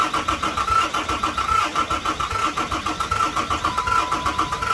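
A Cummins diesel engine cranking over on the starter, a loud, even, rapid chugging rhythm that keeps turning without catching, recorded up close with no talk.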